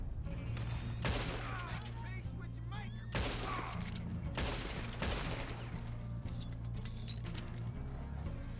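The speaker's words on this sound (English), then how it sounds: "I mounted the machine gun, you know?" Mounted machine gun fire in the Red Dead Online game cracks out in several loud, dense bursts separated by pauses, over a constant low background hum.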